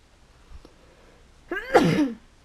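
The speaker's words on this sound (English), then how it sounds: "I had to sneeze there" A single sneeze from a man, preceded by a faint sharp intake, bursts out loud and close for about half a second before quiet returns.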